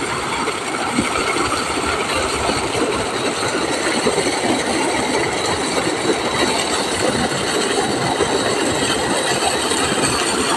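A 7.5 HP Shakti monoblock water pump runs at full pressure pushing water through a 3-inch outlet, a loud, constant roaring rush of motor and gushing water with no pauses.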